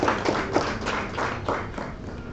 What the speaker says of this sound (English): Please let's give him a round of applause as he comes to the floor.